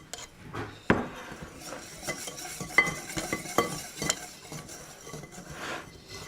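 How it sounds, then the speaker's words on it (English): Gluten-free bagel batter whisked by hand in a bowl, a busy run of scraping, tapping strokes with a few sharp clinks against the bowl's side, close and steady for several seconds with no talking. "You keep whisking."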